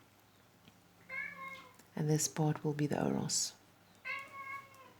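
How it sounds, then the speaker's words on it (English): A pet cat meows several times, clear and close, with rising and falling cries in short bursts, while a person speaks in between the calls. "That's my cat making a noise."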